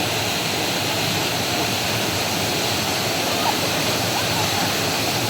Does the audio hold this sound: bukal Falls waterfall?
yes